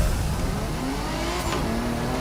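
Car engine revving in the racing game The Crew Motorfest, a loud, continuous mid-pitched engine roar holding steady with rising tone, close and alone.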